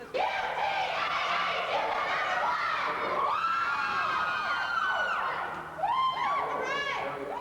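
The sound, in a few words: home crowd cheering at a gymnastics meet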